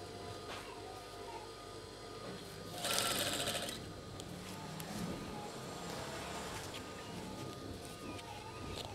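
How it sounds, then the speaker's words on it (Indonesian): Sewing machine stitching a tablecloth, a steady low mechanical hum running throughout with a brief louder whirring burst near the start, no talk heard. "Kita jahit sampai akhir."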